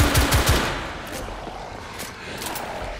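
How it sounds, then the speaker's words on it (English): An automatic rifle in The Order 1886 fires a quick close burst of about four shots at the start, then echoing reports and further muffled gunfire trail off in the background. "Oh, it's already an automatic rifle."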